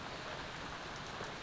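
Steady rain falls on a wet morning after a spell of hot weather, a constant, even hiss of drops with no voices and no breaks.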